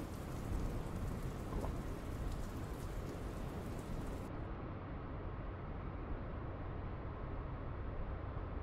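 Steady heavy rain in the Dustland Delivery game, a dense continuous hiss of falling drops with a low rumbling undertone like distant thunder, constant and fairly loud with no talking.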